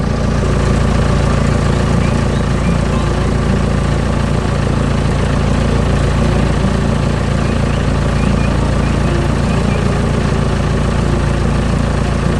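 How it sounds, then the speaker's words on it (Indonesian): A green construction tractor's engine labours on brown soil with a constant low, throbbing drone, loud and close, holding steady without pause for the whole stretch. "Mesin konstruksi hijau sedang bekerja keras di tanah berwarna coklat."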